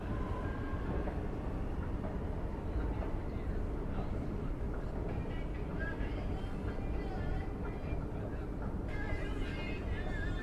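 A steady, rumbling ride aboard a train travelling from Jeddah to Riyadh, its continuous low roar and rattling filling the cabin with a constant wash of noise, occasional faint higher tones drifting over it, and no one speaking.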